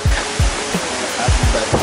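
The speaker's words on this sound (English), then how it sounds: "Look at that waterfall." A waterfall roars as a steady broadband rush, loud and near, with occasional low thumps cutting through the continuous noise.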